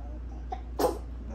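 A single short sneeze, quick and fairly near, set against a quiet indoor room during an art session with a young child, with a faint small sound just before it.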